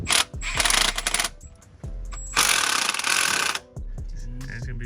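Cylinder head bolts on a Chevy Silverado 5.3 V8 are driven in with a power tool, sounding as loud, close bursts of whirring and rattling that start and stop several times in quick succession.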